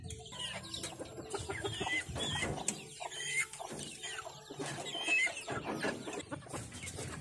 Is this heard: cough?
no